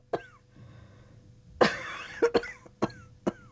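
An elderly woman coughs in a household, a sudden harsh burst followed by several short, sharp coughs spaced irregularly over a few seconds, fairly close and clear against a quiet room.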